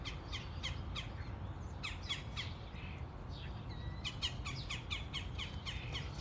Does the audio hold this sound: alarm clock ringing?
no